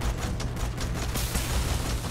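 Rapid gunfire from the space game Starfield crackles continuously through a dense, noisy battle mix, loud and with no pauses.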